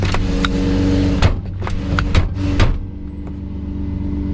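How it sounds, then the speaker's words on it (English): A Lamborghini Murcielago LP640's door thumps shut a few times over the low idling rumble of its straight-piped engine, the solid knocks close and distinct. "I guess I didn't shut my door hard enough."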